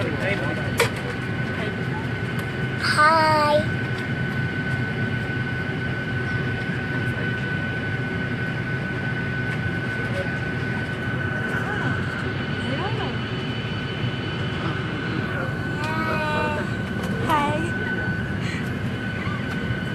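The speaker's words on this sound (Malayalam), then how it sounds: "ഞങ്ങൾ ഷോക്കെ കഴിഞ്ഞിട്ട് ഫ്ലൈറ്റ് ഒന്ന് കോഴിക്കോട് ലാൻഡ് ചെയ്തു" Inside an airplane cabin as the flight lands at Kozhikode, a steady, loud engine and air drone fills the whole span, with faint voices murmuring underneath.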